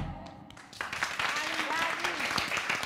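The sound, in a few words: studio audience applauding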